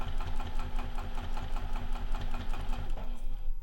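Sewing machine with a universal size 80 needle stitching through four layers of a fabric and vinyl bag handle, a fast rhythmic mechanical chatter heard close up, steady for several seconds before slowing near the end.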